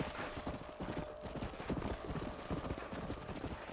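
Horse hooves clip-clop in a rapid galloping rhythm across open range in Red Dead Redemption, close and continuous for a few seconds with no talk.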